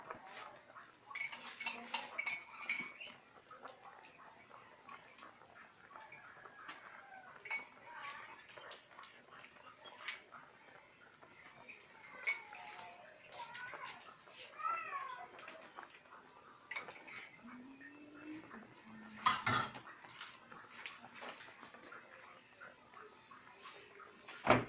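Spoon and ladle clatter and clink against a pot while cooking maya-maya fish, with scattered metallic knocks spread throughout, fairly faint and close, amid quiet kitchen background.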